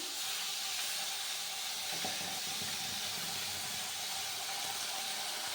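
Onion paste sizzles steadily in hot oil in a kadai for an egg curry, a constant bright frying hiss with no break, heard alone at moderate level.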